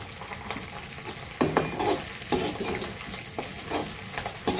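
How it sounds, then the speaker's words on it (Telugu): Green chillies and dried red chilli pieces frying in hot oil in a pan, with a steady sizzle broken by several louder bursts as the spoon stirs them through, close and without any talk. "తర్వాత 4 పచ్చిమిరపకాయ, ఎండుమిరపకాయ ముక్కలు వేస్తున్నాను."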